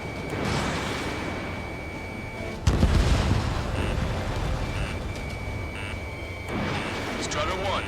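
In Ace Combat 7, a missile launches with a rushing roar, then a sharp, loud explosion bursts midway and rumbles on, while radio voices chatter over the combat noise.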